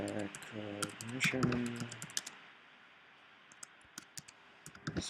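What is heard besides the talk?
typing on a computer keyboard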